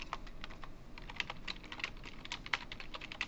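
Someone types into a notepad on a computer keyboard with quiet, irregular clicks of keys, faint and close, in a run of uneven taps with no voice over them.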